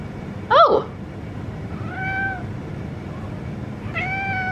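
A cat gives three short meows, the first sharper and louder, the next two softer, spaced about two seconds apart over low background hum.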